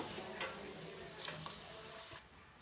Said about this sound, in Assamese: দি মেলি অকণমান লৰাই লৰাই ভাজিব লাগিব